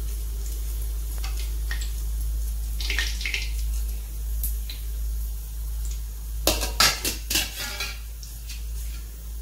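Fried puas are pressed in a metal utensil to drain oil, with a few soft taps early, then a brief cluster of sharp clattering knocks over a steady low hum.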